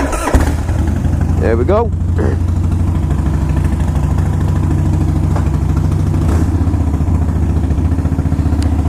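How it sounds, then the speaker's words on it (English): A carbureted 2005 Harley-Davidson Wide Glide motorcycle engine cold-starts with a quick crank and catch, then settles into a loud, steady, lumpy idle close by while someone speaks briefly. "it does fire up really good. It's a cold start."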